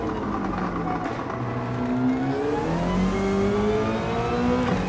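A race car in Gran Turismo 7 accelerates, its engine note climbing steadily in pitch as it revs up, loud and close over a continuous roar.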